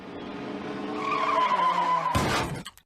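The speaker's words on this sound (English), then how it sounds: "Can anyone hear tires screeching?" Tires screech in a long, loud, high-pitched skid over a car engine, ending in a sudden burst of crash noise that quickly cuts off.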